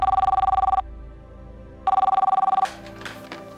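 A desk telephone in a hotel office rings for a transferred call, two loud trilling bursts separated by a pause, followed by a brief clatter as the receiver is picked up.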